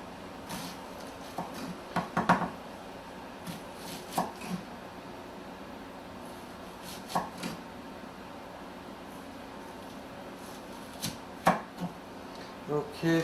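Knife chopping onions on a board, scattered irregular sharp knocks in small clusters with pauses between, close and moderately loud over a quiet room.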